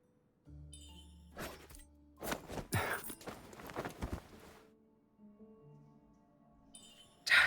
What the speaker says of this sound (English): Your footsteps are noisy, and you breathe heavily.